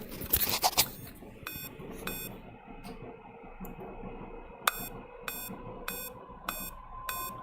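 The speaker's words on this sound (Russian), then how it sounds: "Пищит. Это то, о чем я говорила. Такое бывает после сброса батарейки к MOS, CMOS или батарейки BIOS" A computer motherboard beeps after its CMOS BIOS battery has been reset, sounding a few spaced electronic beeps and then a run of five short, evenly timed beeps over a faint background hum. A brief clatter of handling noise comes first.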